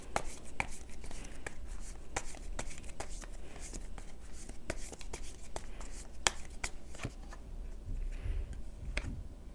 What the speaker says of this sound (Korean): 조언 카드 좀 더 뽑아볼게요